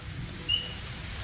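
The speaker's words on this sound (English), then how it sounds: "It's raining." Rain falls at a campsite as a steady, quiet hiss of drops, with one brief high chirp partway through.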